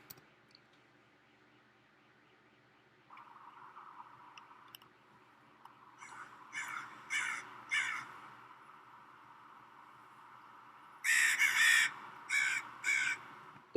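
Crows caw outdoors in a series of harsh, repeated calls, coming in short bursts of three or four that grow louder toward the end over a low steady background.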